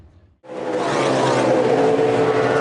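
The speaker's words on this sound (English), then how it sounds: "Oh, big crash in turn number 2." A NASCAR Cup Series race car roars in loud and close during a big crash in turn two, a sudden sustained engine and tire rush swelling after a brief quiet start.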